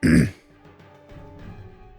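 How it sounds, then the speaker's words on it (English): A man clears his throat once with a short, loud, guttural rasp at the start, followed by quiet, faint background sounds. "Sorry, needed to clear my throat there."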